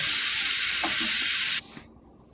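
Blended tomato paste is sautéed in a hot pan, giving a loud, steady sizzling hiss with a few light stirring knocks. The hiss cuts off abruptly near the end, leaving faint residual crackle.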